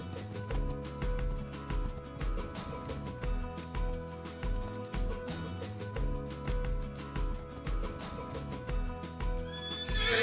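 A horse in the Spirit video game gallops with a steady rhythmic clip-clop of hooves and neighs, set against looping game music throughout.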